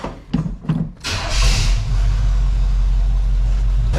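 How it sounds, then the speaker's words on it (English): A 1985 Chevrolet C10 Silverado pickup cranks briefly in a couple of short bursts, then its engine catches and settles into a steady, loud, low idle rumble. "I'm going to start the truck now"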